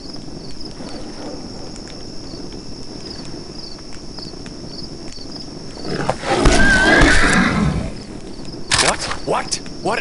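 Horse neighing in the Half-Life mod Parasomnia, a sharp whinny with stamping rising out of a quiet ambient hum midway, followed by a brief second burst.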